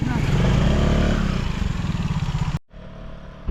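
Motorcycle engine on a rural farm trip, a loud close rumble with clattering that fades out and drops away abruptly, followed by a quieter, distant engine tone.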